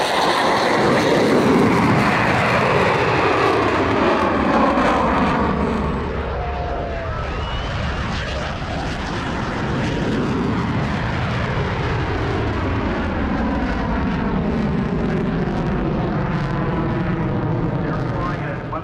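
An FA-18 Super Hornet takes off at an air show, its jet engines a loud, sustained roar that shifts in pitch as the fighter accelerates past, with a public-address voice underneath.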